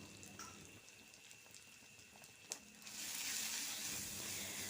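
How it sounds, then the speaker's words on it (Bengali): Spice paste with turmeric powder frying in a pan, a steady sizzling hiss that swells louder about halfway through, with a brief sharp pop just before the rise. "এবারে এতে সামান্য হলুদ গুঁড়ো দিয়ে আবারও একটু ভেজে নেব।"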